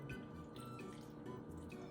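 Liquid is poured around a spatchcocked chicken in a pan, giving a soft continuous trickle and dribble with small splashy bursts, close but quiet, without talk.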